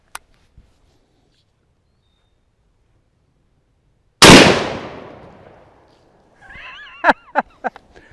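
A Mossberg Patriot rifle fires a .450 Bushmaster round at a bucket of paint: a single loud, sharp blast with a long decaying tail, followed by faint clattering and chirpy sounds.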